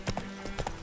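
Hooves of Roach, the horse in The Witcher 3, clop in a quick galloping rhythm, a few close, moderately loud strikes in under a second.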